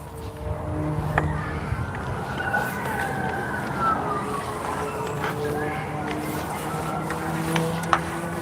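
A police car siren wails faintly in the distance, rising and falling behind steady ambient noise, with a brief thump near the end.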